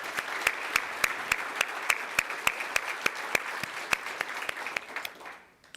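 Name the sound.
audience applause at a hall of fame ceremony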